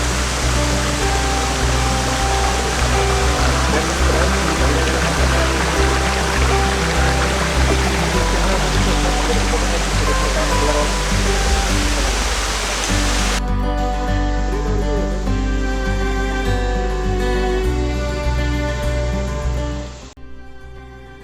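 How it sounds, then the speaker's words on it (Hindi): Ghaghra Waterfall near Gotasila in Jharkhand, a steady, loud roar of falling water that stays close and unbroken throughout, with a slight change in tone partway through as the position shifts. "ये झरना है, झरना में आप नहा सकते हैं।"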